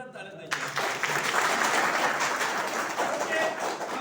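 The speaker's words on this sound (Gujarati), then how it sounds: "ફરીથી બા માટે જોરદાર તાળી થઈ ગઈ" Enthusiastic audience applause breaks out after a brief lull and continues as steady, dense clapping for several seconds, fairly distant and even.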